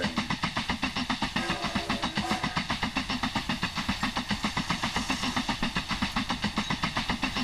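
Train in the railway game Mashinky pulling into Paradise Station, a rapid, even rhythmic chugging pulse at steady loudness, close and continuous with no voices.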